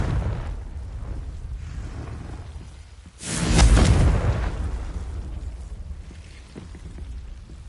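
A burst of spell-casting impact in Hogwarts Legacy: a single loud, booming explosion roughly midway through, rising out of a low rumbling game ambience and fading back into it over a couple of seconds.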